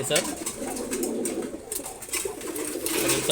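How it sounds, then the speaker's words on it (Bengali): Pigeons feeding at a loft give a soft, continuous cooing close by, with a few wing flutters and pecking noises mixed in; a person's voice is also present. "কবুতর দেখেন সবাই খাবার খাচ্ছে সব ধরনের কবুতর এই খাবার খেতে পারে"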